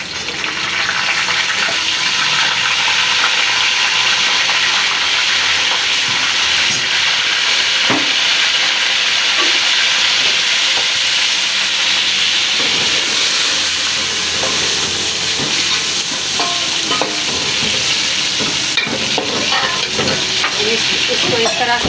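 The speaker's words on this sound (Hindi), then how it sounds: "इसको इस तरह से भून के बनाएंगे" Goat trotters fry with onions in a pot, giving a loud, steady, close sizzle and hiss that lasts throughout, with occasional clinks and scrapes from stirring.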